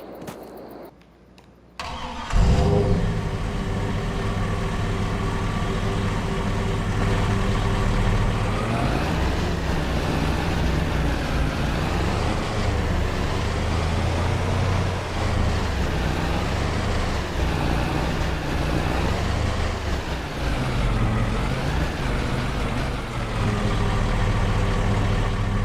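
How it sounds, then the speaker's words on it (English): A reefer truck in Farming Simulator 22 cranks and its engine catches after a short quiet moment, then settles into a steady, loud diesel drone as it drives off, with the rumble rising and falling slightly throughout. "Get the reefer truck out first."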